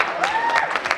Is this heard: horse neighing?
no